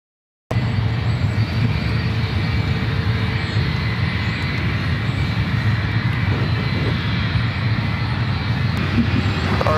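A United Airlines Boeing 757-200 jet at SFO, its engines a continuous loud broadband roar that starts abruptly after a brief silence and holds steady throughout.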